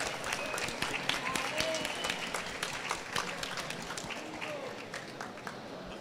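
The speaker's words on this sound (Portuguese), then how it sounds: "uma salva de palmas para esses novos empreendedores aqui" An audience applauds new entrepreneurs on an event stage, a steady wash of clapping with scattered sharper claps, fading slightly toward the end.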